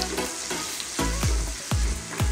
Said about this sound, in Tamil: தக்காளி நல்லா பச்சை வாசம் போகிற வரைக்கும் நல்லா வதக்கி விட்டுக்கோங்க